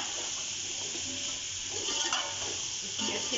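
Salt being stirred into pulao in a cooking pot, giving a steady hissing, sizzling scrape with soft irregular stirring scuffs throughout, no voices.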